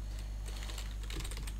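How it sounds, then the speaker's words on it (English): Fingers type on a computer keyboard in a quick run of soft clicks over a steady background hum. "there's me screwing up my typing"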